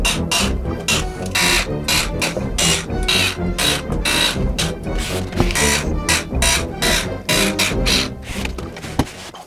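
Many screws are backed out of a Vatrer Power 51.2V 100Ah rack battery case: a continuous, dense ratcheting and rasping grind with rapid rhythmic clicks, loud and close, with no voices.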